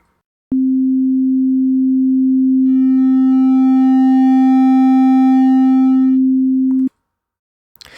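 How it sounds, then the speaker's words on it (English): A steady, loud sine wave tone holds for about six seconds, gaining a bright buzzy edge of harmonics midway as Fruity Wave Shaper hard-clips it, then cuts off abruptly. "I'm using the Fruity Wave Shaper to simulate hard clipping"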